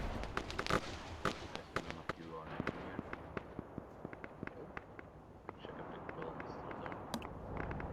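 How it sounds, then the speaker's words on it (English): Sharp pops and bursts from smoke grenades in a Call of Duty match, scattered irregularly across a busy battlefield with nearby transient cracks over low rumble, mixed with game voices. "Trying to pop some smoke grenades out. Ooh, there goes that pop."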